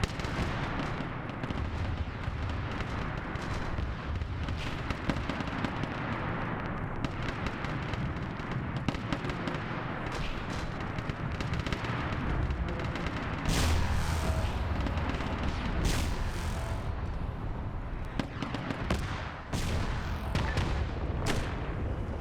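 Soldiers trading gunfire in a military video game, with dense, continuous volleys of shots and booms rolling on throughout, and sharper, louder bursts near the middle and end.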